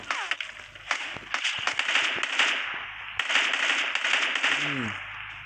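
Rapid bursts of gunfire from PUBG Mobile, loud sharp cracks coming in quick irregular clusters with a few isolated single shots between them and a brief descending tone near the end.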